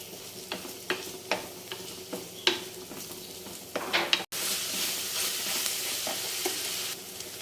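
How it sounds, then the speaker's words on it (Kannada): Onions frying in a pan until golden: a steady sizzle with regular spoon strokes scraping and stirring, then a louder, denser hiss in the second half, close and moderately quiet. "ಆನಂತರ ಗೋಲ್ಡನ್ ಕಲರ್ ಬರೋವರೆಗೂ ಈರುಳ್ಳಿನ ಫ್ರೈ ಮಾಡ್ಕೋಬೇಕು."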